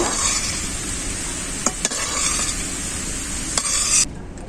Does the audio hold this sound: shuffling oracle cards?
no